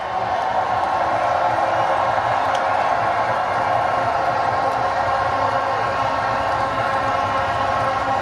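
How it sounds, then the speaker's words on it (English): Stadium crowd roaring and applauding India's 2024 men's T20 World Cup final win over South Africa, a dense, sustained wash of cheering and clapping with no break. "Round of applause one more time for Rohit Sharma and his men."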